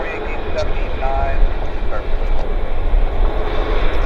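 Boeing 737 Max airliner landing at Vancouver airport, a steady loud broadband engine and airflow roar holding throughout with a distant voice underneath.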